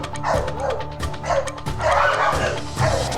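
A dog barks and yips repeatedly in quick bursts, mixing sharp bow-wows with higher whimpering yips, close and fairly loud with short gaps between bursts.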